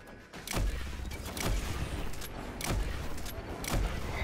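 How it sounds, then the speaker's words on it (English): Gunfire in the video game Destiny 2, a series of four heavy, booming shots spaced about a second apart, loud and close over a dense background of game noise. "I don't know what I'm shooting, but I'm shooting something."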